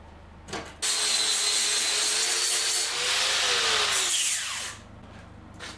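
A power tool whirs up and grinds steadily, burnishing metal with an abrasive to remove 80-grit sanding scratches, for several seconds, then spins down, loud and close.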